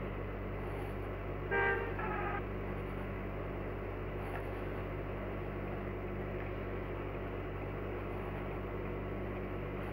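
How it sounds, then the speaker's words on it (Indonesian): A car horn sounds briefly in a bus simulator game set in Indonesia, one short honk near the start over a steady engine drone and road noise. "Klakson, klakson, klakson."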